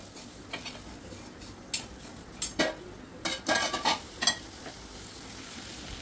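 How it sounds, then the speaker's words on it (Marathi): A spoon stirs potatoes and ivy gourd with turmeric, red chilli, coriander powder and garam masala in a pan, scraping and clinking faintly in scattered strokes over a soft, steady sizzle. "आता हे सगळं मिक्स करून घेऊया।"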